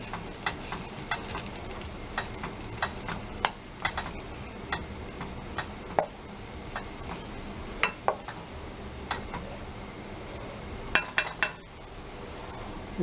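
Ham and cheese polenta stirred in a pot, giving a run of light, irregular clicks and scrapes of a utensil against the pot over a soft steady background, with no talking.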